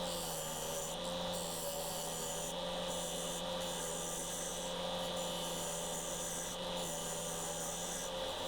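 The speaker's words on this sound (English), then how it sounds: "I went back to the bowl gouge." A bowl gouge cuts into an elm stump bowl spinning on a lathe, making a continuous loud rasping, rubbing drone with slight periodic swells in texture throughout.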